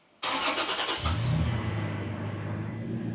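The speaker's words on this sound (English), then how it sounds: "we're going to start the truck and go through the gears to make sure that it works in all of those situations" Toyota Tacoma truck engine cranking and catching, then settling into a steady idle rumble, close and loud with no talking.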